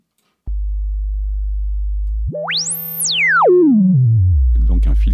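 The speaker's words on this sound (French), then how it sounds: "Cette sinus qui sort du filtre est très très très jolie." A pure sine tone from a self-oscillating filter on a CA 2600 synthesizer, an ARP 2600 clone, drones low, then glides sharply up to a piercing pitch and sweeps back down into a deep bass tone.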